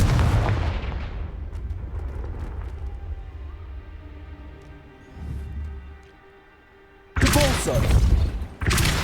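Confringo fire spell blasts in the video game Hogwarts Legacy: booming explosive bursts with a rumbling tail, then a quieter stretch before two loud, harsh blasts crack out near the end.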